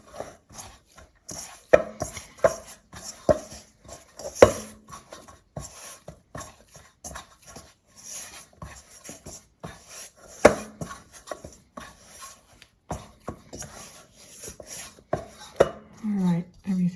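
Hands knead and squeeze a clumpy, lumpy baking dough in a bowl, with intermittent knocks, thumps and soft squelches separated by quiet gaps.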